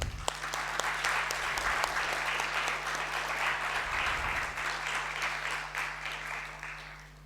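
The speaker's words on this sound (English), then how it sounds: "Round of applause for each one of you." Sustained applause rises from the audience at a public speaking keynote event in India, a steady dense wash of clapping with a low constant hum beneath it, moderately loud throughout and slowly fading toward the end.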